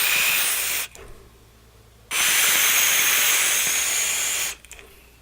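Two long, loud breathy hisses of vapor from a GOVAD RDA with a Clapton coil at 65 watts, split by a short quieter gap and fading out at the end.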